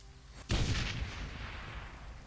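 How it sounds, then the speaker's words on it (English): A bomb blows up a bridge and barricade in Shadowrun: Hong Kong: one sudden loud blast that slowly rumbles and decays over the next two seconds, with no voices. "The explosion is deafening."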